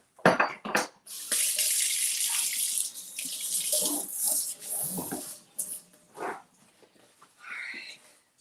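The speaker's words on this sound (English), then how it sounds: "let me wash my hands" Water from a running tap splashes into a sink as hands are washed, a loud close rush that starts and stops in bursts, with brief clicks and knocks from the faucet between.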